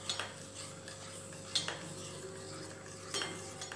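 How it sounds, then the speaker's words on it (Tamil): A spoon stirs Sunrise coffee mix into hot milk, clinking against the cup in quiet, evenly spaced strokes roughly every one and a half seconds. "முதல்ல சூடான பாலல சன்ரைஸ் மிக்ஸ் பண்ணிக்கலாங்க. இது நல்லா கலந்து விட்டு"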